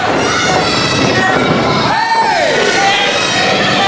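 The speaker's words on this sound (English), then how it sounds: "for David Matthews to do that right here in front of his hometown crowd in Springfield, Tennessee, where he grew up" Hometown wrestling crowd in Springfield, Tennessee cheering and shouting loudly and continuously at an independent wrestling show, with a commentator talking over the noise.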